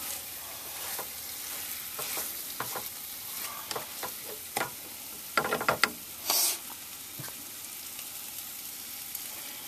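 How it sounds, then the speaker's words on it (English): Pulled pork and sauerkraut with bacon being stirred as it fries in a pan: a steady sizzle with a run of scraping, clattering stirs, clustered toward the middle and late part, close and fairly loud, no talking. "We're going to stir it one last time."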